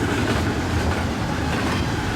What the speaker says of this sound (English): Yeah, westbound priority train.